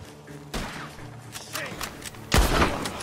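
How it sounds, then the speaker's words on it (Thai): Gunfire rings out in Red Dead Redemption 2 during a shootout at a crop storage barn, with several sharp shots and booming blasts in quick succession across a few seconds. "ยิงไปเรื่อยๆครับ เก็บมันให้หมด"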